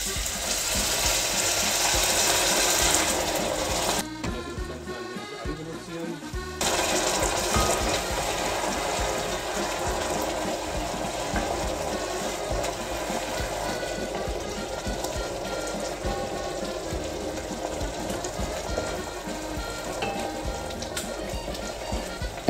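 Vegetable stock poured into a hot pan of ratatouille vegetables, producing a steady loud sizzle and bubbling hiss that continues throughout, with a brief dip early on.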